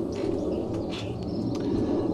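Pet birds coo softly close by, a few low repeated calls over a dense steady background hum, with no one talking.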